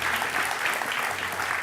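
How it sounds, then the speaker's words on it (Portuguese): Applause from a studio audience on a Portuguese afternoon TV show, a steady, dense wash of clapping held throughout, moderately loud with no voices over it. "um grande aplauso aqui para a nossa Paula"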